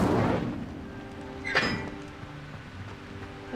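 A fire spell cast in Hogwarts Legacy gives a single sharp burst partway through, rising over a low rumbling game background, with no talking.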